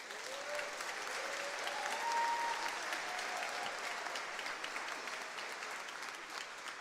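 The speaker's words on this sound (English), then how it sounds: "You can give them a round of applause." A large audience claps steadily for the graduating Class of 2025 at a Deer Park, Ohio high school commencement ceremony. The dense applause fills the whole stretch at an even level, with a few faint tonal cheers or whistles rising above it.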